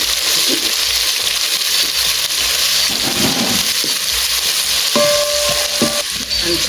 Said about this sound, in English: Our cooking oil is ready, so we're going to put our onions and put an onion.